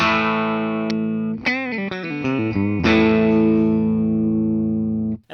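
A 1981 Gibson Les Paul electric guitar rings out through distortion, with sustained chords and a quick run of bent, shifting notes in the middle, loud and alone, ending in a brief cutoff.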